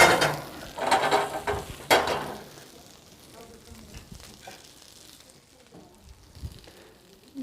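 Field greens hit a hot pan with a burst of sizzling and a few sharp stirring clatters, then the frying settles to a faint, low crackle.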